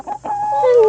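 Farm chickens call out close by with a short run of clucks, building into a louder, drawn-out squawk toward the end.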